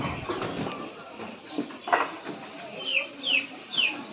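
Ten-day-old broiler chicks in a poultry shed holding about 1,200 birds, a cluster of close cheeping calls, rising toward the end over a low murmur.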